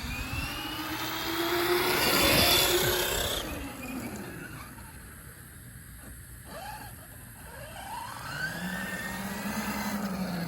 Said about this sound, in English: A little bit of a tick to it, but that's probably the new heat sink hitting something.